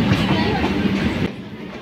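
A Howrah–Masagram local train rumbles along the tracks with a steady clatter, fairly close and loud, then the noise drops away abruptly near the end.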